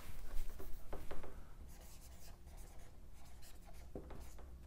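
Chalk or marker writing on a board during a chemistry lecture, close scratchy strokes in short bursts, louder at first and then lighter, with quiet pauses between.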